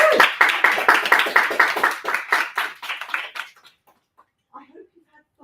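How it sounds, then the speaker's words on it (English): A small workshop audience gives a round of applause, a quick burst of hands clapping that thins out and fades after about three seconds, followed by near silence with a few faint sounds. "I'm going to give all of you a round of applause"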